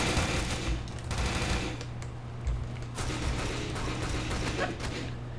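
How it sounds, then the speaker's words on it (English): Rapid machine gun fire in the tactical shooter Tactical Intervention, long rattling bursts broken by brief pauses, close and fairly loud over a steady low game hum. "I literally just plowed through that guy with my machine gun"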